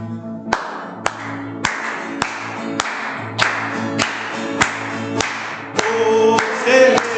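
Steady rhythmic claps from a church congregation clapping along to a hymn, about eleven sharp beats spaced evenly, with sung voices and instruments sustained underneath.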